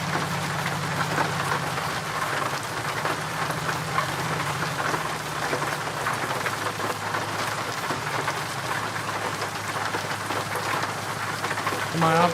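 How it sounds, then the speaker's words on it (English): Loud rain drumming in a driving video game, a dense continuous hiss of drops on surfaces that stays steady throughout, with a voice speaking faintly over it. "Oh, that rain. Holy crap. It's loud, loud, loud."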